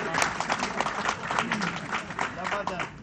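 Audience applause breaks out at a press conference in Pakistan, a dense, steady wash of clapping from a crowd that fills the scene at moderate loudness, with some voices mixed in.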